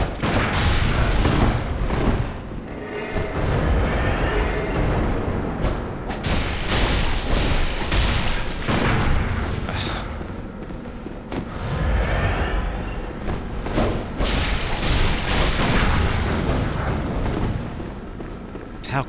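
Heavy gunfire and booming blasts from the video game Bloodborne, loud and dense with repeated bursts and impacts across the whole stretch, with brief dips between volleys.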